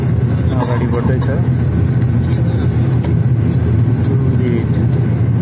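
A Yeti Airlines plane moves onto the runway at Bhairahawa for takeoff to Kathmandu, a loud, steady engine drone heard from inside the cabin with muffled rumble throughout.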